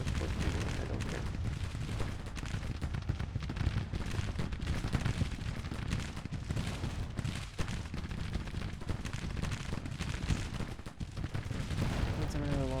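Sustained, dense gunfire from a Union infantry video game battle roars continuously, with overlapping rifle volleys and booming blasts forming a loud, unbroken wall of battle noise.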